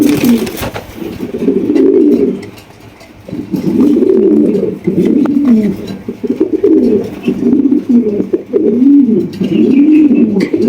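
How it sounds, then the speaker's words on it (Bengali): Maltese pigeons, a big-sized jet-black pair, give deep rolling coos in loud, close, repeated phrases with short pauses between them, and no talking. "তাহলে এখানে রয়েছে আরো এক জোড়া মাল্টেস কবুতর দেখতেই পাচ্ছেন অসাধারণ কোয়ালিটি"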